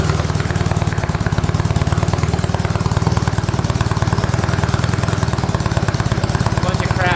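A 1967 Honda Dream motorcycle engine, revived after more than 50 years with plugged exhausts, idles in a steady, rapid, slightly uneven putter that holds close and fairly loud throughout, with no talk over it.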